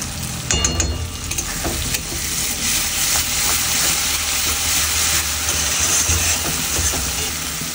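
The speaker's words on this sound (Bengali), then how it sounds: "এবার এই লঙ্কার বাটাটা দিয়ে দেবো, মানে পেঁয়াজ লঙ্কার বাটা।" Onion-chili paste sizzling loudly in hot oil while being stirred, a steady crackling fry for dried fish, with occasional spoon scrapes against the pan and no talking.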